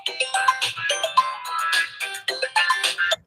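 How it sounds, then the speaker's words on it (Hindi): A mobile phone rings for an incoming call, playing a bright, melodic ringtone that repeats a short tune loudly and steadily before cutting off abruptly. "इस बाबू फोन आता है"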